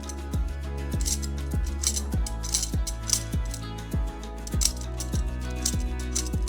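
A potato peeler slices a zucchini with a quick regular run of light clicking strokes, about two per second, over soft background music.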